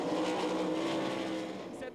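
Sprint race cars, 410s, run slowly around Knoxville Raceway under a pace car, a steady engine roar from the pack that eases off toward the end, with an announcer talking over it.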